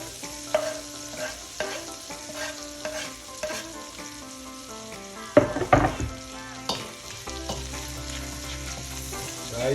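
Garlic sizzles in butter in a frying pan as it is stirred, with steady frying hiss, scraping stir sounds and clatters, and music playing throughout.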